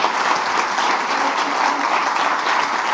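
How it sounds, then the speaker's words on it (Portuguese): A church congregation applauds during a Sunday celebration service, producing a loud, even roar of many hands clapping at once that holds steady throughout without any voices on top. "Se você gostou, aplaude."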